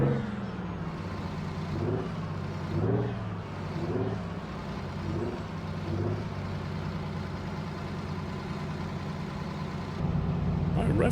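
A truck's engine holds a steady, high-revving drone heard from inside the cab, with people talking over it throughout and a brief louder surge near the end.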